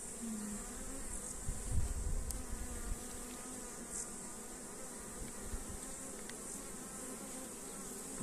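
Honeybees at apiary hives hum in a dense, continuous drone close by, with a steady buzzing wash and a few faint ticks and knocks, and no voices.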